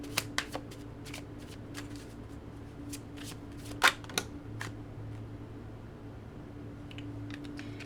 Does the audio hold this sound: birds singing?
no